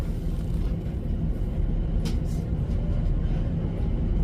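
Steady low rumble inside a running Northern passenger train bound for Stalybridge, a continuous close onboard drone of wheels and motors with a faint brief squeak.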